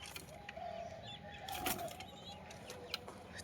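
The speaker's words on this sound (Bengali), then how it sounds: "এই দেখো পায়রা" Pigeons at a village home coo softly in the background, with a brief flutter of wings midway through and faint surrounding ambience.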